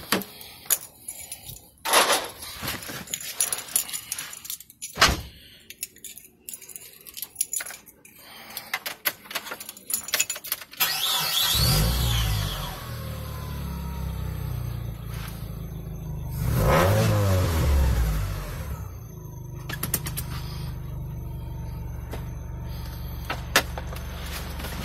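A third-generation Mitsubishi Eclipse engine, fitted with lash adjusters that can tap, begins with clicks and key sounds. It cranks and starts at about eleven seconds, then idles and revs up and down nearby.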